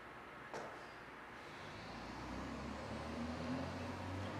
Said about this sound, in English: Listen through the sounds of the trucks and through the sounds of your mind.